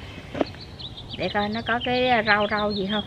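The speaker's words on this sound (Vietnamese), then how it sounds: "Nghe chim hót hay ha." Birds sing in a home vegetable garden, their melodic calls weaving through the background while someone talks close by.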